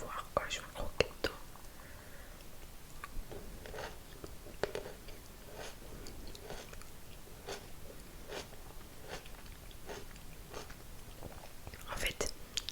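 Someone bites into and chews a cherry tomato up close, giving wet crunches and squishy chewing clicks at irregular intervals, with soft whispering woven between the bites.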